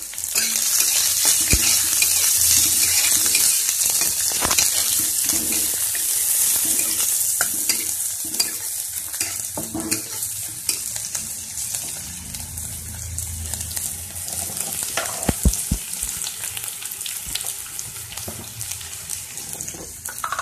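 Finely chopped onion frying in a pan for cabbage spring rolls, a steady close sizzle with stirring and scraping throughout, plus brief splashes like running water near the end; no one speaks.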